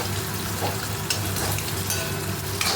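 Boiled chowmein fries in a hot wok, giving a dense, continuous crackling sizzle close up with a few sharper pops and no voices.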